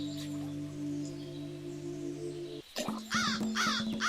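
Crow cawing near at hand, several harsh rasping caws in quick succession following a steady low hum, heard without any talk.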